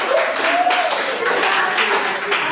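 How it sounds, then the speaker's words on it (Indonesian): A classroom of students clapping for a group that has just finished its presentation, a dense steady patter of many hands with a voice briefly audible over it. "tepuk tangan dulu untuk kelompok"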